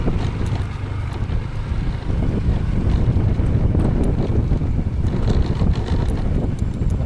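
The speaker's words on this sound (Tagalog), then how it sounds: "Malakas na ang hangin." Strong wind roars over a microphone on a rocky road during a motorcycle ride, a dense, loud, continuous buffeting rumble with no pause.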